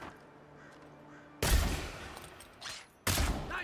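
Two loud, sharp gunshot blasts ring out in the fantasy video game Avowed, about a second and a half apart, each with a booming low-end crack and short decay, over a quiet ambient background with no talk.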